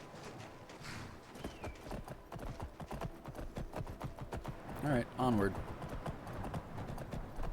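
Rapid clip-clopping hooves of a resurrected horse in Skyrim, steady gait throughout with a brief neigh near the middle, while a person talks over it.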